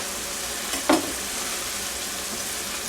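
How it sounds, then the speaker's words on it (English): A bag of mixed vegetables dumped into a hot frying pan for ground beef, a steady close sizzle with one brief louder rush and scrape as they drop in, no voices. "So I'm going to take the bag, mixed vegetables, and just dump it in."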